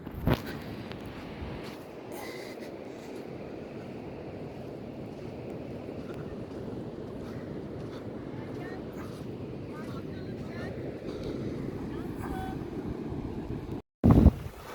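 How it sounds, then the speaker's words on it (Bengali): Sea water at night on Maafushi island in the Maldives, a continuous low wash and roar with wind rumbling on the microphone, ending in a brief loud bump. "আপনারা হয়তো বা পানির গর্জন শুনতে পাচ্ছেন।"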